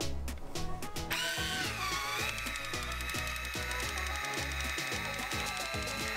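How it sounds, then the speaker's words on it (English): A Kitchen Mama electric can opener runs its motor, a close mechanical whir with a rhythmic grinding click as it turns. A rising whine settles into a steady pitch. "it sounds like the motor's a little underpowered"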